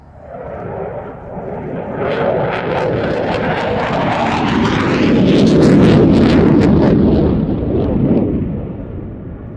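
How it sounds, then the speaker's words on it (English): Eurofighter Typhoon making a fast pass at about 500 knots with both Eurojet EJ200 engines in afterburner at Cosford Airshow 2022: a loud, continuous jet roar that swells toward the middle and eases slightly at the end. "accelerating to about 500 knots. Afterburner engaged at the two Eurojet EJ200 engines."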